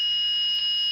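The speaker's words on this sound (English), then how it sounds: "this dash makes an awful noise" A truck dashboard warning buzzer on a Cummins 5.9L diesel, a loud, continuous high-pitched electronic tone that holds steady without a break, alone with no talk.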